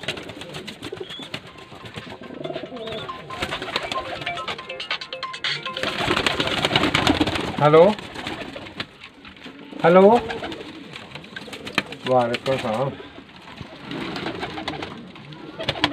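Racing pigeons coo in a loft in soft repeated bursts, close by and moderately loud, while a man greets someone and people talk over them at intervals.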